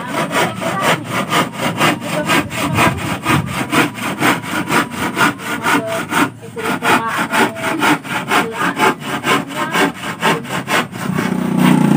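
A hand saw cuts through wood in a Sundanese village in steady, rhythmic back-and-forth strokes, close and loud, with a brief pause midway before the sawing resumes.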